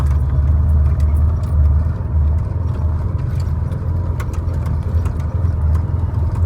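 A truck's engine drones steadily while driving slowly into a sugar beet factory, a loud, constant low rumble close by, with a faint rattle over it and no talking.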